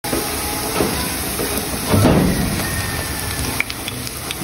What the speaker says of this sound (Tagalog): ipiprito na lang natin to saging